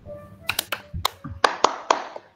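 Rhythmic hand clapping in a patterned chant: several quick close claps in short grouped bursts, crisp and fairly loud, with no voices.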